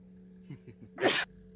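A single sharp, loud sneeze bursts out after a few short, soft vocal sounds, then quiet returns.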